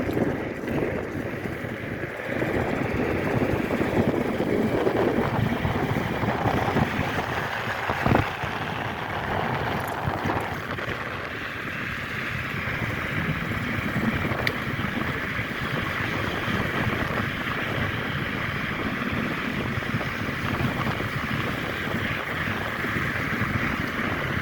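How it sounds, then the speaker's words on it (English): Tires of a Nami Klima Max electric scooter rolling on the road at night, mixed with rushing wind buffeting the microphone: a steady, fairly loud broadband roar that holds unbroken for the whole ride, with no one talking. "The only thing I can hear is just the sound of the tires, contact on the road, and the wind"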